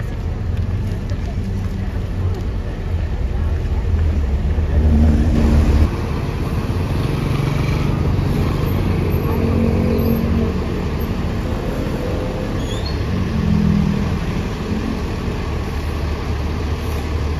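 A PO Indoren double-decker bus pulls into a busy morning terminal, its engine rumbling steadily and close for the whole stretch, with a low idling drone and passing traffic noise underneath.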